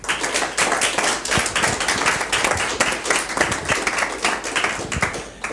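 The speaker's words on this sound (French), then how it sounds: "je pense que tout le monde va t'applaudir, Richard, tout de suite maintenant." Dense, steady applause from an audience at the close of a web TV gala show about blogs, with many hands clapping loudly and continuously throughout, no voices on top.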